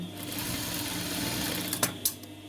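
A sewing machine runs steadily, stitching fabric piping onto green cloth for a sleeve design, a continuous close whirring hum with a couple of sharper clicks near the end.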